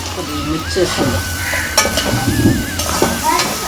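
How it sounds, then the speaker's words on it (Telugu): Tripe sizzles and fries in a pan as turmeric and salt are added, with steady crackling and the scrape of stirring close by. "బోటి అయితే ఫ్రై అయిపోయింది పసుపు ఉప్పు అయితే వేసేసుకుంటున్నాం"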